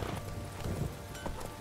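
Roach, a horse in The Witcher 3, gallops in a quick, steady drum of hoofbeats, fairly close and loud.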